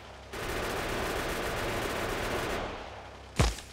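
Rapid automatic gunfire from ammo magazines in the video game Factorio, a dense sustained burst lasting a few seconds, then a brief louder thump near the end.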